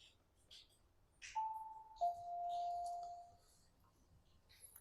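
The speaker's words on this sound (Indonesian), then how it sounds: "Kakak bos, ini kita tekan bel dulu ya." A doorbell at the entrance of a house in Japan rings as a clear two-tone electronic chime, a short higher note then a longer sustained lower tone, heard close in a quiet setting with faint rustling around it.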